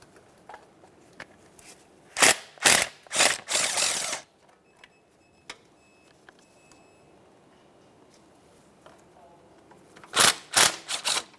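A ratchet removing two 10mm mounting bolts from a plastic cover on a 2012-2015 Honda Civic 1.8L, short bursts of close clicking in two groups separated by quiet handling noise.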